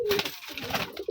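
Rajshahi gereba flying pigeons, a brief close burst of cooing and fluttering, with no speech over it.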